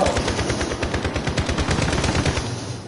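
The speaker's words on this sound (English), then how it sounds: "Gunshots, gunshots." Rapid bursts of automatic gunfire in the video game Call of Duty: Black Ops Warzone, a fast steady rattle of shots in close succession lasting several seconds, loud and up front.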